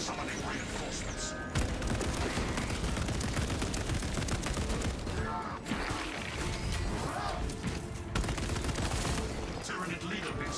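Auto bolt rifle fire in the game Space Marine rattles in dense, loud sustained bursts with brief pauses, layered with battle effects and occasional voices.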